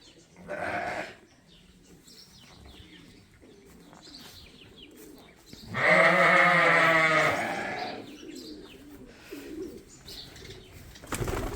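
Sheep on a farm, with one loud, close, drawn-out bleat midway between quieter shuffling and faint bird wing flaps.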